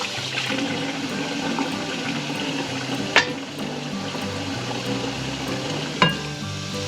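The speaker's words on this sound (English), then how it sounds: "I'm only gonna fill this pot up about halfway or so, just so that it has enough water to cover the feet" Tap water runs steadily into a cooking pot being filled about halfway for menudo, a continuous rushing fill with two brief sharp clanks, close and alone without talk.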